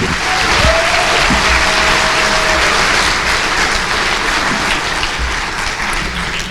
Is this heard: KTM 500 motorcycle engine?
no